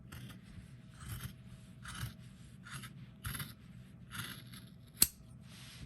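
Scissors snip through layered sock fabric along marked lines in a series of short, crisp cuts, close and quiet, ending with one sharp tap.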